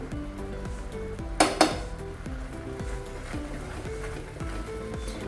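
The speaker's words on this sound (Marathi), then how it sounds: "हे सगळं आता व्यवस्थित सुकेपर्यंत आपल्याला ढवळत राहायचंय." A spoon scrapes and clinks against a pan while a milk and sugar mixture for kalakand is stirred, with two sharper metallic knocks early on over a constant low hum.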